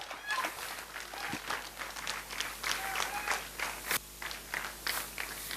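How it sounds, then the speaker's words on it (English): Audience at a professional knowledge session applauding to welcome the session chairman, a fairly faint, steady patter of many hands filling the room with a few sharper individual claps, no talk over it. "Let's welcome CA Shubham Jain with a big round of applause"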